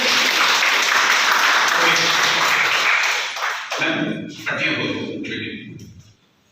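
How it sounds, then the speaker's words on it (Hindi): Applause from a seminar audience at a children's brain development event, loud and dense for about three seconds, then thinning into scattered claps and fading out, with some voices mixed in. "तालियां हो जाएगा फिर"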